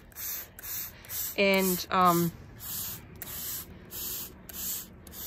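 A hand-pump spray bottle mists coffee onto paper in a steady series of short hissing bursts, about a dozen puffs evenly spaced, with a brief spoken word in the middle.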